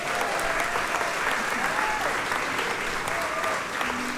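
Audience applause for a jazz guitarist at a live jazz concert, a dense, steady wash of clapping that holds loud and even throughout, with a voice faintly present beneath it.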